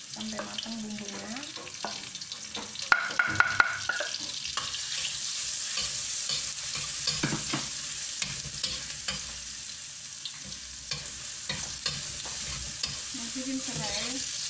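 Ground turmeric spice paste for Sundanese sayur lodeh stir-fries in a pan, a soft continuous sizzle broken by intermittent clinks and scrapes of a spoon, with brief voice sounds at moments.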